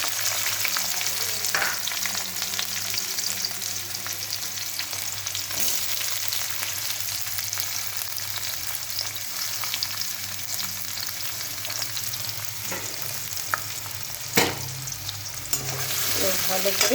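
Chopped onions fry in oil with tempering spices, a dense, steady sizzle up close with occasional scraping stirs. A voice briefly speaks near the end.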